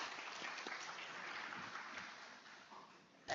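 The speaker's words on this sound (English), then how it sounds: "Can we have a round of applause for our panelists?" Conference audience applauding panelists at the end of a healthcare policy session, a steady dense wash of clapping from a seated crowd, fairly soft and distant, continuing evenly before stopping abruptly.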